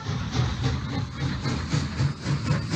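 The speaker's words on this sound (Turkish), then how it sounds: "Oğlum ben tren binmeyi bilmiyorum ki" Train ride in a horror video game, with a steady low rumbling and rhythmic clacking of the rail car running continuously under a faint hiss, fairly close and even in loudness.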